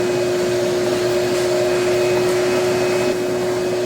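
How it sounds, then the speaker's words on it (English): A vacuum cleaner runs nearby with a loud, steady whine and a rushing airflow, unbroken for the whole stretch, with no talking. "I'm going to grab my vacuum cleaner and vacuum all the crap up out of this real quick."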